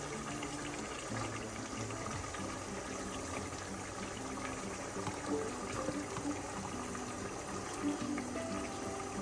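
Masala for a Kollam-style mackerel pepper curry boils in a pot, a steady, faint bubbling and hissing wash that continues evenly with no talk.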